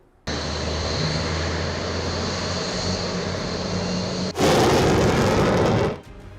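A MiG-21 fighter jet roars in a loud, sustained rushing drone, then surges abruptly into an even louder, harsher blast before cutting off.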